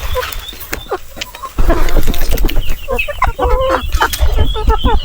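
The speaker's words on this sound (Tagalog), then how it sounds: "Ito lagi yung mga pasaway na manok." Farm chickens cluck and call in bursts close by, with several birds overlapping and growing louder and busier midway through, alone without talk.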